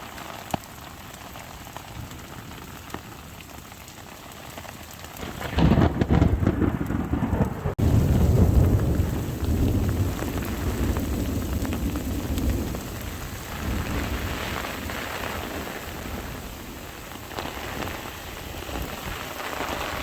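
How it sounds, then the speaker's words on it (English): Marble-sized hail mixed with rain pelts down in a desert thunderstorm, a hissing downpour that surges to a loud, rattling roar partway through, with thunder rumbling low under the constant patter. "A super cool mix of hail that came down. Those are about marble size."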